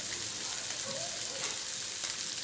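Bacon and calabresa sausage frying in a pan give a steady, dense sizzle with crackling, close and continuous, with no talk over it.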